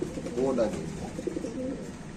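Pairs of pigeons at a wholesale pigeon market coo in a short low burst over steady background chatter and crowd noise.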